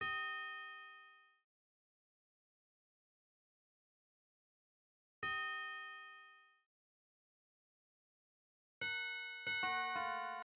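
Bell hits in a dark guitar beat made in FL Studio: two single ringing strikes that decay slowly with long silences between, then a quick cluster of layered bell notes at the end, clean and alone.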